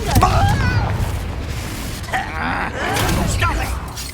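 A Confringo fire spell bursts during a duel in a Hogwarts video game, a loud boom with a gasping, groaning voice and crackling aftermath, followed by further rumbling blasts.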